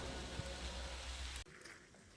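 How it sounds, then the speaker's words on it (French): Steady rain pours down in sunshine outdoors in Brittany, a dense continuous hiss of drops close by that cuts off abruptly near the end, leaving a quieter outdoor background. "il pleut avec le soleil"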